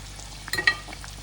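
Oil sizzles and crackles softly as pastries deep-fry, with a couple of small pops standing out.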